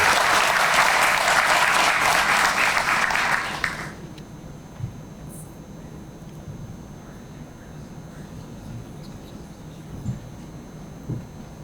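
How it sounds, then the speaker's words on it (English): Audience at a police district community relations awards ceremony claps for officers receiving a commendation, a loud burst of applause lasting a few seconds before fading into quiet room noise with a few small knocks. "A collective round of applause."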